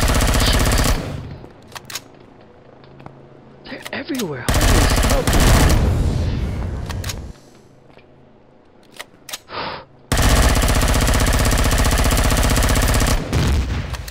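Large cannons firing in the space survival game Empyrion Galactic Survival, loud rapid bursts of heavy automatic fire in long sustained volleys separated by quieter gaps, with a player talking between them.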